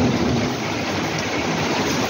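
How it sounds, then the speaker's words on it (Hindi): Heavy rain falls after a hailstorm in dark, windy weather, a dense steady hiss with low rumbling underneath, loud and continuous throughout the short stretch, with no talk. "ओले के बाद तो जो बारिश आई वो नुकसान की है"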